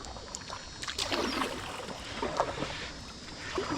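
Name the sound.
canoe being paddled on the Suwannee River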